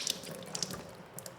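Water drips and trickles from raw vegetables squeezed by hand while making spicy Korean raw fish salad, a few soft close splashes and patters, no talk.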